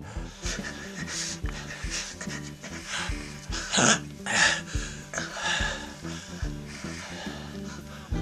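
A voice actor in a recording studio breathes heavily for an audiobook, making rhythmic panting gasps and harsh exhales close to the microphone, with a louder burst of breath near the middle and a low tonal bed underneath.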